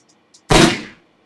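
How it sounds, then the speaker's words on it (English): A single sharp gunshot sound effect, processed with a stereo doubler that layers copies at different pitches, bursts out loud and close, then decays over about half a second. "I'm actually putting a doubler on there, and I'm doubling the frequencies"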